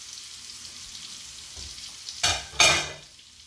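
A steak laid into a pan of melted butter, giving two sudden loud bursts of close sizzling that fade into a quieter fry after a near-silent start, with no talking.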